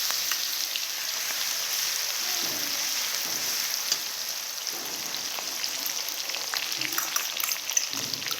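Crushed garlic frying in hot oil with cumin and cinnamon in a Marwari-style tempering: a steady, soft crackling sizzle with scattered pops, continuous throughout and fairly faint, with no voices.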